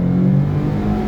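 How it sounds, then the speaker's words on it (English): A car engine fitted with a new throttle body revs in a loud, close, steady drone that rises slightly and then eases over about a second. "I put this new throttle body on it, so it really has some good response."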